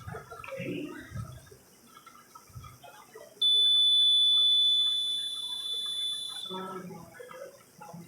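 A piercing, steady electronic emergency buzzer from a women's safety device sounds for a few seconds, loud and continuous, starting abruptly amid faint background noise and fading as it stops.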